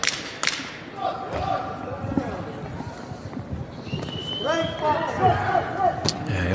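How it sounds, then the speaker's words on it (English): Punches thud during a women's professional boxing bout, a couple of sharp body-shot impacts landing amid steady crowd noise and ringside commentary. "Nice body shot combination there."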